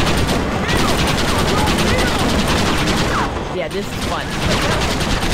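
Dense, continuous gunfire from the game Red Dead Redemption, a loud fusillade of rapid shots during an attack after a boat boarding, with a player's voice speaking over it.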